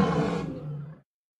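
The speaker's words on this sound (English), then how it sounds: "L is for lion" A lion roars once, loud and close, as a long rumbling cry that fades out, followed by silence.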